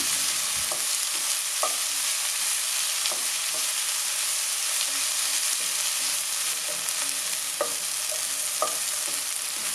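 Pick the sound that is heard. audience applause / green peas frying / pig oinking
green peas frying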